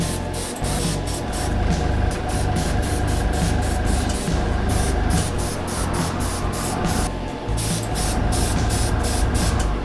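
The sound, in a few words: airbrush spraying paint on lightsaber prop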